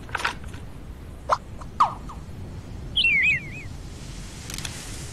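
Cartoonish squeaky bird call from a pirate bird conjured in the video game Scribblenauts Unlimited, a short warbling chirp near the middle after a few brief clicks, fairly faint over a low game hum.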